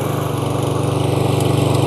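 Toro Super Recycler 21564 walk-behind lawn mower engine running close by after an electric start, a steady loud throbbing drone without talk.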